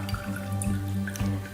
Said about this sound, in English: I'll keep pouring this in until it's all into my jar.